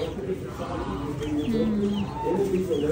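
Chickens clucking and cooing in a noisy barnyard at a county fair in Delta Junction, Alaska, with low murmurs of people and animals mixed in throughout.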